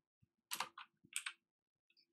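A few soft computer keyboard keystrokes tap in short quick bursts, quiet and close, with brief pauses between them.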